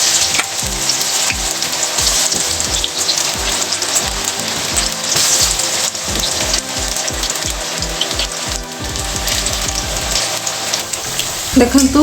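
Corn pakoras frying in hot refined oil in a kadai, a steady close sizzle with crackling bubbles and occasional rhythmic clinks or stirs, continuing throughout with no talking.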